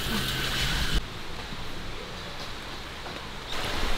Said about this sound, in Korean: 여기는 약간 개울 느낌이다.